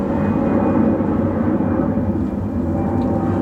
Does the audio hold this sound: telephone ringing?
no